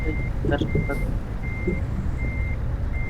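A truck's reversing alarm beeps in regular, evenly spaced tones over a low engine rumble, with a brief burst of talk early on.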